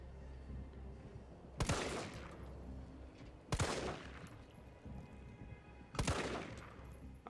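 Three heavy, widely spaced gunshots from Resident Evil 3 Remake, each a sharp booming blast about two seconds apart over a low ambient hum.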